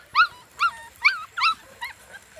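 A Standard Schnauzer puppy whines in a series of about five high, rising yelps spaced roughly half a second apart, close and clear, the last ones fading softer, with no talk over them.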